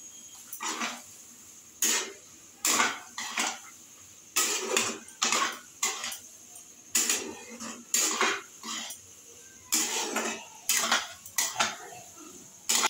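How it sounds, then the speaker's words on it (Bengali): Ghugni with potato being stirred in a pot, a loud, close series of rhythmic metal scrapes and clanks from the spoon against the pot in short bursts with brief pauses, no voices. "আলুটা দিয়ে ঘুগনিটাকে নাড়াচাড়া করছি"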